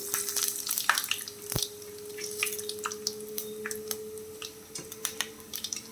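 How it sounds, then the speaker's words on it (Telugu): Peanuts, mustard seeds and cumin frying in oil in a pan for poha: a steady crackle of sharp pops and spatters with a faint constant hum beneath, close and moderately quiet. "ముందుగా పల్లీలు వేసుకోవాలి, అవి వేగాలి కదా."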